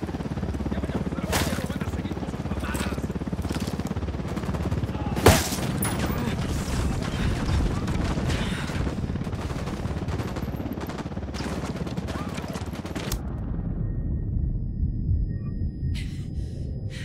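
Rapid gunfire from a video game battle with a helicopter nearby, dense bursts running almost continuously and one sharp louder shot partway through, then cutting off abruptly near the end to a quieter hum.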